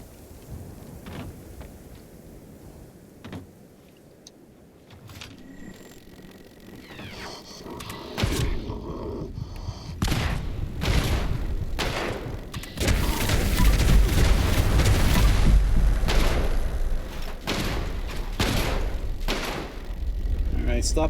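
Tesla cannon in Fallout 76 discharging in repeated heavy electric blasts and booms, loud and dense, growing more intense toward the end as a player talks over it.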